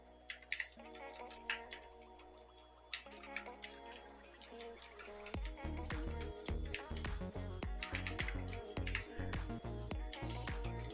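Numbers being entered on a computer keyboard, rapid irregular clicks and taps close by, with a steadier run of keystrokes in the second half; quiet overall, with no talking.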